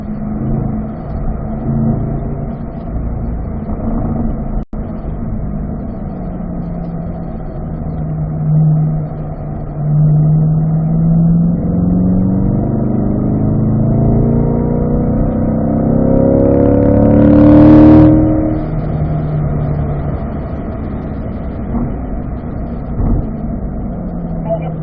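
A car engine climbs in pitch as it accelerates through the gears up into fourth, rising then dropping at the shift. It is heard from inside the cabin beneath a steady road rumble, with a voice speaking over it.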